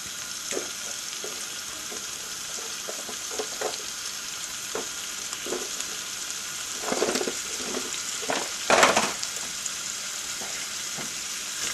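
Root vegetables and chicken sizzling in a pan for a casserole, a steady hissing fry with a few soft stirring knocks and a louder flare of sizzle near the end, close and without talk.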